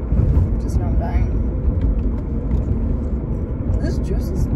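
Loud, steady rumbling road and wind noise pours in through an open car window while driving, a dense roar that fills the whole stretch with faint talk underneath.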